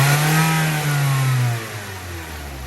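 A car engine with a P0300-type misfire holds a steady throttle near 2,000 RPM, a loud, close, continuous drone that eases slightly toward the end, with no voices.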